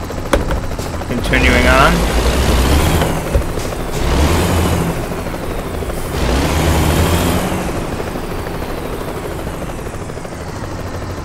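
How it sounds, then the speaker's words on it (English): A loud helicopter rotor in the video game American Truck Simulator drones steadily throughout with heavy low rumble, and someone speaks briefly over it near the start. "Where's this helicopter going?"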